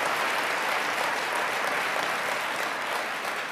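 A large seminar crowd at a network marketing talk breaks into dense, sustained applause, a thick even roar of many hands that holds steady and fades slightly at the end.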